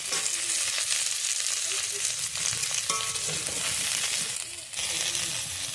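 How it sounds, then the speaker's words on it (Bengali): Carrots, beans and sesame frying in a pan for vegetable khichuri: a loud, continuous sizzle fills the scene, broken by occasional stirring scrapes and clinks. "গাজরগুলো আবার কিছুক্ষণ ভালো করে ভেজে নেবো"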